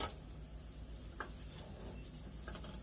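Fry bread batter cooks in a hot flat pan, a faint, steady sizzle with a few soft crackles and ticks, quiet and unbroken.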